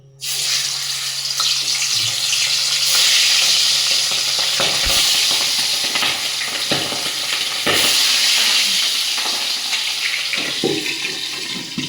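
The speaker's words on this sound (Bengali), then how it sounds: "মাছগুলো খুব ফটফট করে ফুটছে" Fish frying in hot oil, a loud close hissing sizzle with crackling pops that swells and sputters over the whole stretch, no talking.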